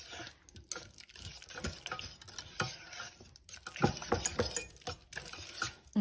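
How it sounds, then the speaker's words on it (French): A spoon works 70 g of butter into a warm mixture for an entremet, with repeated scraping, clinking strokes against a bowl and wet sloshing and stirring sounds in an uneven, busy rhythm. "on va mélanger jusqu'à ce que ça fonde"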